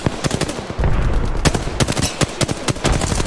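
Rapid automatic gunfire in the battle royale game Apex Legends: loud, dense bursts of shots crackle steadily throughout, with some overlapping fire and no talk.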